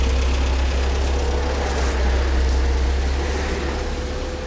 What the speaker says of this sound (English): Well, we got the German Beetle. You can hear that.